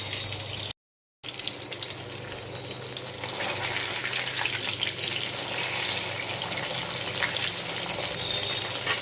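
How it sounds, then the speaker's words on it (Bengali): Fish fries lightly in a pan, a steady close sizzle and hiss that builds slightly in loudness partway through, with no one talking. "বেশি ভাজবো না মাছটা, হালকাই ভাজবো।"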